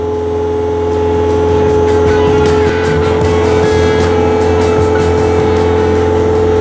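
A Bobcat snow blower attachment running at high RPM, a loud, steady engine roar with a constant drone and slight rise near the start, continuous and close, no talk.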